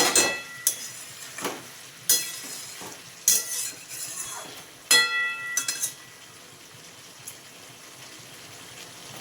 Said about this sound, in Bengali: একটু চিনি দিয়ে ভালো করে কষিয়ে নিলাম